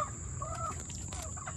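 A backyard rooster crows once, faint and some distance off, among soft clucking from farm chickens.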